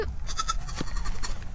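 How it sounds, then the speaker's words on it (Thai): A baby goat at a hillside farm attraction on Doi Mon Chaem, Chiang Mai, bleats in brief, wavering cries close by, amid outdoor crowd noise. "ลูกแพะนันนี้น่ารัก"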